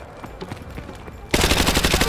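A loud burst of rapid automatic machine gun fire erupts suddenly in the Modern Warfare 2 campaign street fight toward a market, after a quieter stretch of distant pops and battle noise.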